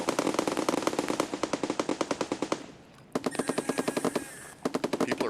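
Rapid bursts of automatic gunfire in the video game Escape from Tarkov crackle in steady rhythmic volleys, pausing briefly before resuming, sounding somewhat distant and with no voices.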